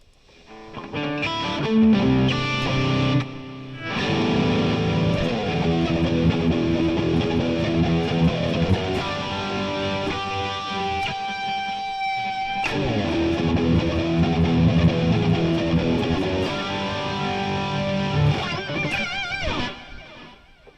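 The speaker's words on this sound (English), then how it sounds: "Gotta love a flanger." Guitar played through a Chop Tones flanger patch, a dense distorted tone with sweeping, swooshing comb-filter motion rising and falling across the sustained chords, loud and continuous with no voices.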